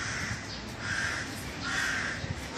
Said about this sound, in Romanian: mai și o cioară crâncăne